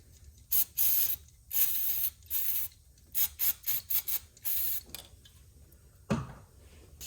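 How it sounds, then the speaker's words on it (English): Aerosol mass airflow cleaner is sprayed during thermostat and temperature sensor work on a GMC 6.2 engine, a series of close hissing bursts of varying length separated by short pauses. "Just clean it off with some of this mass airflow cleaner."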